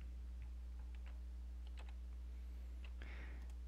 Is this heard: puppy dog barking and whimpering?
no